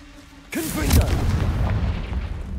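A Confringo blasting spell from Hogwarts Legacy explodes with a sudden heavy boom, loud and close, followed by a whooshing magical swirl and a rumbling tail that lingers for a couple of seconds.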